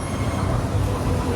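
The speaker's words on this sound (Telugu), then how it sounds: "అండ్ పైన ఒక ట్రైన్ పోతుంది, మోనో రైల్ ఇది." A monorail train in Daegu passes overhead, a continuous low rumbling roar, fairly loud and unbroken through the short stretch.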